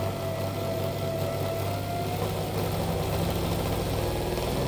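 An M72/Ural motorcycle engine runs at raised revs to drive a G414 alternator, a steady, close, even drone with a low throbbing rumble and no talk.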